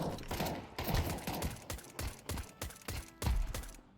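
Pistol shots from the Project Zomboid video game fire in a quick irregular series of sharp cracks, mostly quiet, with no one speaking.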